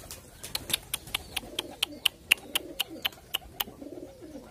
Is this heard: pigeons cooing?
yes